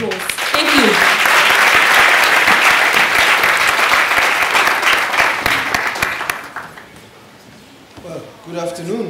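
An audience at a youth forum on Harambee breaks into loud sustained applause welcoming a speaker, dense clapping filling the room before fading out near the end as a voice begins to talk.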